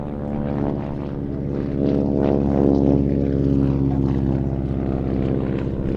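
A vintage Spartan Model 7 Executive with a 450-horsepower Pratt & Whitney Wasp radial engine flies at Little Gransden Airshow, its loud, steady propeller drone swelling slightly as it passes, throaty and continuous with no voices.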